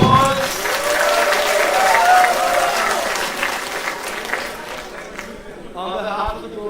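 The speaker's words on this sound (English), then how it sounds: "Let's give everyone a round of applause." A conference audience breaks into a full round of applause, many hands clapping loudly and evenly, with some crowd voices mixed in, fading slightly toward the end as a voice begins to speak.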